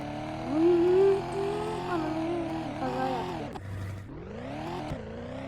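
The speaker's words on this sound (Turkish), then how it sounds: "Arabanın sesi güzel değil mi?" A video game car engine hums and revs steadily, pitch rising and falling as it accelerates, with a brief dip midway before climbing again.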